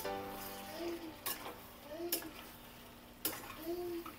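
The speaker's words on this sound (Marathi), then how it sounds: "आता आपण ह्याला चांगलं मिक्स करून घेऊया" A pan of mutton masala being stirred: three soft scraping clinks of a spoon against the pan at irregular intervals over a quiet background hum, faint and close.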